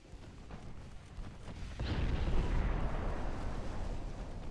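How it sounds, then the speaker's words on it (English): Armor-piercing naval gunfire in the Ultimate Admiral Dreadnoughts warship game: low scattered rumbling, then a heavy booming blast that swells into a sustained roaring rumble, loud and close. "You're still firing armor piercing"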